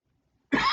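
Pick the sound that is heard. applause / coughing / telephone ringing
coughing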